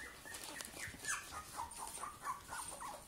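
Puppies whimper and whine in high, wavering cries, several short overlapping calls repeating through the clip at moderate distance, with faint household noise beneath.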